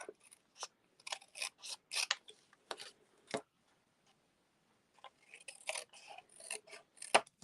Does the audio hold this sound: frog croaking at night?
no